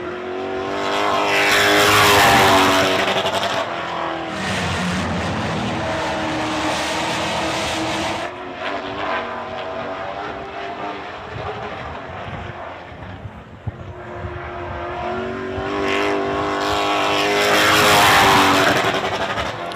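Race cars roar around a racetrack during a live event, two loud engine pass-bys swelling and fading at the start and end with steady, more distant engine drone between.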